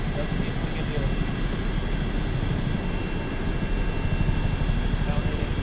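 A CH-47D Chinook helicopter engine at maximum throttle in a flight game roars as a dense, constant, loud drone, unchanging throughout with no break.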